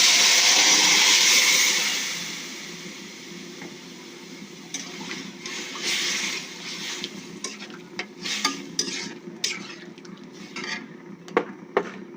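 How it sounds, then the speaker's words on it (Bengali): Chopped bottle gourd tipped into a hot pan with onions and cumin, a loud initial hiss that settles into quieter sizzling, followed by repeated scraping and knocking of a spatula stirring the pan. "এবার আমি লাউগুলো দিয়ে দেবো।"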